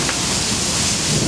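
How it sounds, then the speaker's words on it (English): Heavy rain pours down in a steady, dense broadband hiss with a low rumble beneath that may be thunder, loud and continuous throughout with no voices. "It's raining. Pretty hard."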